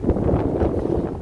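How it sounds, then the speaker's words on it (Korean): Wind buffets the microphone outdoors in winter among blueberry bushes, a continuous low, rumbling roar with uneven gusts that never drop away. "바람이 불어서 말이 잘 나오지 않습니다."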